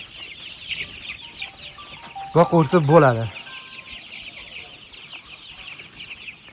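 Young black Andijan chicks cluck and peep softly in an outdoor yard, a brief louder burst of rooster-like clucking in the middle, with a voice speaking briefly.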